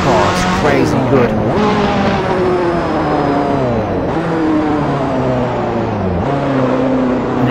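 A Ferrari F40 engine in the racing game Assetto Corsa revs hard and keeps climbing through the gears, loud and continuous. Gear shifts drop the pitch sharply, and a voice talks over it.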